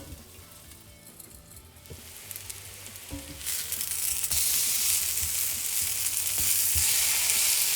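Eggplant slices frying in oil in a pan, a soft crackle that swells into a loud, steady hiss and sizzle, with a few clinks of the utensil.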